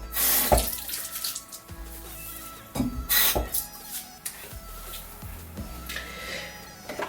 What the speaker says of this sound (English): I'm going to wet my skin.